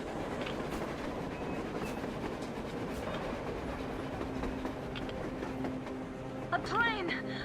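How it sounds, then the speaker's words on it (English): Train rolling along on the surface in the Metro Exodus video game, a steady rumbling clickety-clack of rail wagons with a high metallic squeal near the end, heard under agitated voices. "A train! A damn train on the surface!"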